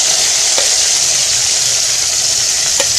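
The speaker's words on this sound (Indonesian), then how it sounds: "Tumis cabai merah, cabai rawit," Red chilies and bird's eye chilies sauté in hot oil for a spicy sambal, giving a loud, unbroken, close-up hiss of sizzling with a couple of faint scrapes of stirring.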